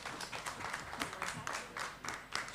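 Applause at a church wedding blessing service, a crowd clapping steadily with a loose rhythm, moderately close and filling the space for the whole moment.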